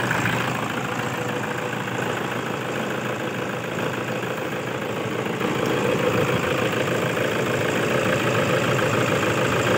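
A Toyota Hilux 1KD diesel engine with a fault runs steadily at idle, a dense continuous rumble with a knocking roughness and no breaks, close by and alone.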